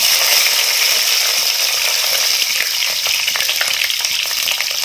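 Dried red chillies crackle and fry in hot oil with fenugreek and cumin seeds for a fish-head sambar, a loud, close, continuous sizzle with faint stirring scrapes and no voices.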